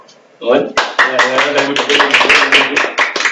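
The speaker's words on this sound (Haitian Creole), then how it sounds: "Nous, quand même, nous mettons un gros applaudissement" A crowd gives a big round of applause, dense overlapping hand claps starting abruptly and continuing steadily, loud and close, with some voices mixed in.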